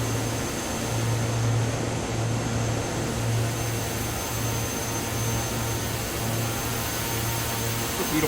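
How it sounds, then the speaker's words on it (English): Steady turboprop engine drone from a Black Square King Air in Microsoft Flight Simulator 2020 on approach, a constant, even hum with a low tonal band running throughout at moderate level, no talk. "It's a beautiful airplane, it's fun to fly."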